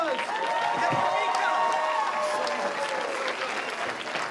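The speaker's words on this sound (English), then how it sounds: "Give this lady a big round of applause." An audience at a live magic comedy show gives a lady a big round of applause, a dense, steady wash of clapping with some crowd noise and voices mixed in.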